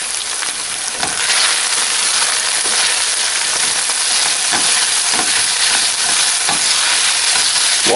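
Water cooking off and oil sizzling hard in a hot skillet just before potatoes go in, a loud, steady, dense hiss with faint crackles, continuous and close with no talking.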